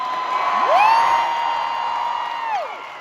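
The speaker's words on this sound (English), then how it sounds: "You cheered about Anaheim." A crowd at a Halloween Horror Nights panel at the Midsummer Scream fan convention cheers and whoops steadily throughout. A loud rising whistle rings out near the start and another falls away near the end.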